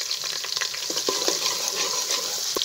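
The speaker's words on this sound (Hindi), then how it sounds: "अब घी गर्म हो चुका है, इसमें हम बारीक कटी हुई प्याज डालेंगे।" Finely chopped onions sizzle and fry in hot desi ghee, a steady bright crackling hiss with faint stirring clicks, close and continuous with no talking.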